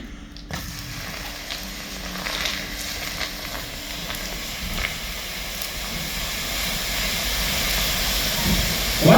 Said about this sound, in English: that's what you can see is just the steam trying to escape